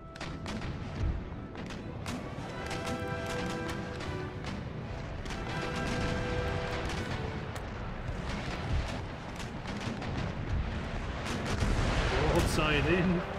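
Cannon round shot fire in the naval battle game Empire: Total War, repeated heavy booms and crashing impacts over continuous battle noise, with a voice speaking over it.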